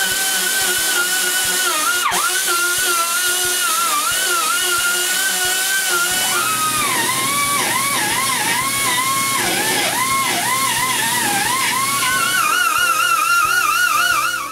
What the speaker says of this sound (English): I change the carving burr for a smaller one and finish the carving.